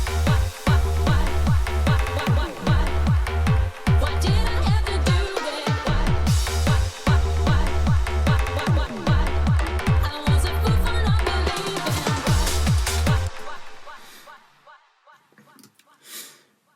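Electronic track with several bass layers playing different notes at once over a kick drum, the sub running full with no sidechain ducking; a loud, dense, pulsing low end with steady kick hits, then cutting off into a fading tail.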